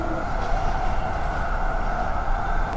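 Inside a moving passenger train, a steady low rumble and hum run continuously with a faint high-pitched tone, and no speech.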